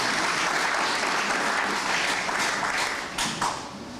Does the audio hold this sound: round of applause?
yes